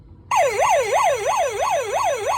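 A Hess 2000 toy fire truck sounds its police-car-style siren, switching on abruptly into a fast, repeating up-and-down yelp that stays steady and clear, with no voices.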